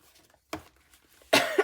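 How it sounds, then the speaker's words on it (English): Two separate coughs from a person, the first short and sharp, the second louder and more drawn out a moment later, close to the microphone with quiet gaps between them. "Sorry about the coughing."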